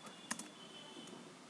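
Typing a file name on a computer keyboard, a few faint close key clicks followed by quieter soft taps, no talk.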